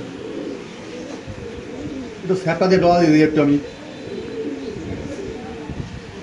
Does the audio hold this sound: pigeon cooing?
yes